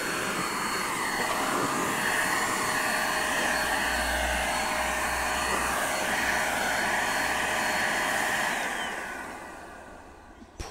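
A DataVac computer cleaner blows air in a loud, steady, high-pitched whine with a rushing hiss. It holds constant for about eight seconds, then winds down and fades, ending with a small click.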